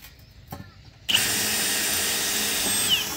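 Cordless drill from a Milwaukee and Bosch tool test, switched to drill mode, spins up abruptly after a few faint clicks into a steady, loud high-pitched whine that runs unbroken to the end.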